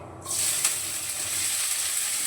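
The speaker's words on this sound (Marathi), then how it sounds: "कांदा परतून घेते" Chopped onion sizzling and frying in a pan on a home stove, a steady bright hiss that starts abruptly and holds at an even level throughout, close and alone with no talk.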